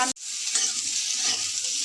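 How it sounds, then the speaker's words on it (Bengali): Potatoes frying in mustard oil in a kadai for a Bengali fish curry, a steady close hiss of sizzling after a brief cut, with soft stirring scrapes and no talk. "আলুগুলো ভাজা হচ্ছে আমার"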